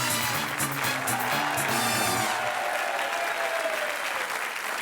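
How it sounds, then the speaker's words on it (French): Dense studio audience applause on a French game show, loud and sustained clapping with a cheerful musical sting underneath that fades after a couple of seconds while the clapping carries on. "Alexandre, ces applaudissements sont pour vous"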